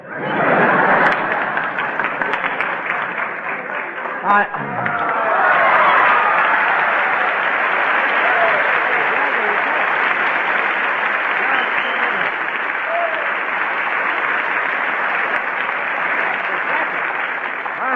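Studio audience applause on a 1948 Bob Hope radio comedy show, a loud sustained burst of clapping that swells after a few seconds and holds steadily, with scattered chuckles mixed in.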